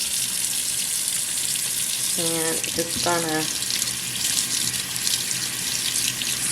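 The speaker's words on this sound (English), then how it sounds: "So we're gonna turn on the water" Water running steadily from a tap in a kitchen sink, a constant hiss throughout while a person speaks briefly in the middle.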